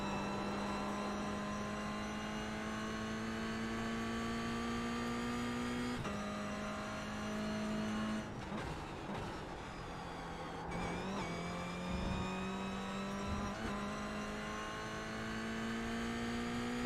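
A Toyota GR86 Cup race car laps Lime Rock Park, its engine droning steadily from the cabin, with gear shifts and revs dipping and climbing through corners, loud and continuous.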